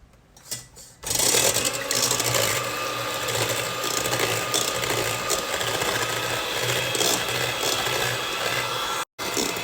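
An electric hand mixer whips egg whites for meringue, a steady loud whirring drone that starts after a second of quiet and runs continuously, with a brief cutout near the end.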